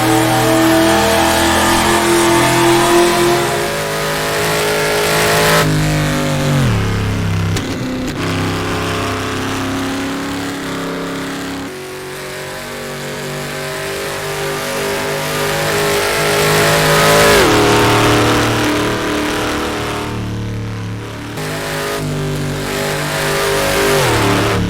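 A race car in the rFactor2 racing sim at the Dundrod road circuit, its engine loud and close. It revs and falls repeatedly as the throttle is blipped on downshifts, then climbs steadily again through the gears.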